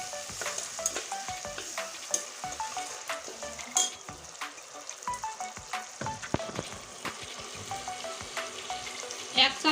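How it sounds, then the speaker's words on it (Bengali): Onion, garlic and dried red chili paste sautéed together in a pan give a close, steady frying sizzle with frequent scraping and stirring clicks from the spatula, no voices. "এখন আমি সুন্দর করে আর একটু কষিয়ে নেবো"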